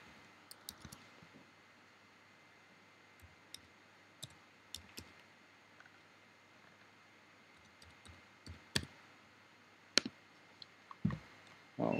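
Scattered, faint clicks from a computer keyboard as a terminal serial number is typed, sparse single keystrokes with pauses between them in a quiet room.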